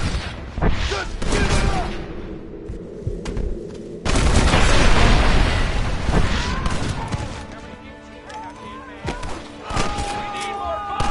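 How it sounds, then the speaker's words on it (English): Gatling gun fire in Red Dead Redemption, loud rapid bursts with booming impacts and crashes in a close, chaotic gunfight, while a voice shouts briefly over the shooting. "You man the Gatling gun, Marston!"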